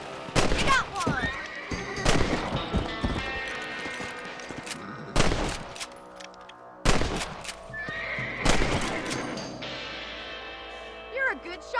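Gunshots ring out while hunting rabbits on horseback in the video game Red Dead Redemption, with several sharp cracks spread through the clip among horse whinnies, hoofbeats and game music.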